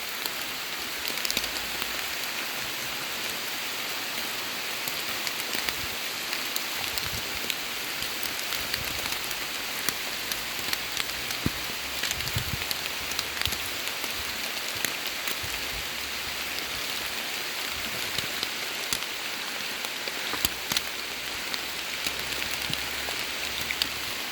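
Heavy rain falling steadily on surfaces, a dense continuous hiss with scattered drop patter throughout, close and unbroken, with no voices.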